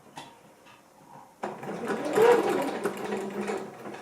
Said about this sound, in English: So I'm going to sew that round now.